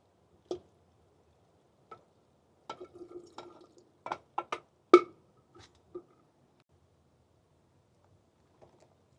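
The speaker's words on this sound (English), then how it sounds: "So the water's seeping out of this one a little bit." Water seeps out of a houseplant pot, making sparse, quiet drips and small squishy ticks at irregular intervals against near silence.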